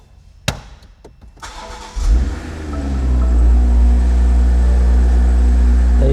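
A 2021 BMW X3 M40 starting after a battery was fitted: a few clicks, then the starter cranks and the engine fires with a loud rise and settles into a steady, deep, close idle.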